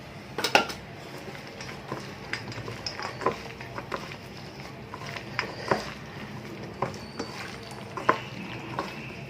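Banana flower is mixed by hand into a snack batter in a bowl, giving irregular soft clinks, taps and scraping close by, with no talking.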